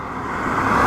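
A car passing on a road outside on a foggy morning, a brief swelling engine and tyre whoosh that grows louder over under a second.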